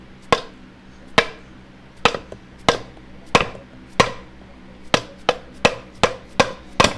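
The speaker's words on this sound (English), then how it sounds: "Give it a little doink on the shaft" About a dozen sharp metal taps strike a minibike shaft to free the camshaft, irregularly spaced with brief ringing decays, close and loud with no talking.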